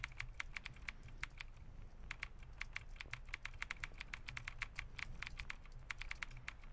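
Quick, uneven clicks of keys on a computer keyboard during an in-game typing test, dozens of close, crisp taps in bursts with short pauses over a low background hum, with no talking.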